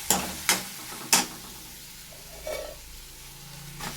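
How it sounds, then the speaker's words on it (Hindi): Washed poha added to fried masala in a pan and stirred: a few sharp scraping clinks of a spoon against the vessel, followed by soft faint sizzling and occasional light stirring sounds. "धुले हुए पोहे डाल दिए मैंने इसमें।"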